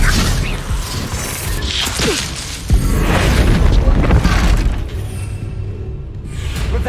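An Expelliarmus spell effect in the Hogwarts Legacy video game: loud, booming magical blasts mixed with crashing, shattering and mechanical whooshes that roll on continuously for several seconds.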